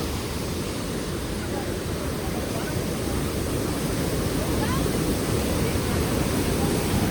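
Steady, dense roar of Niagara Falls close by, a continuous broadband wash with no breaks.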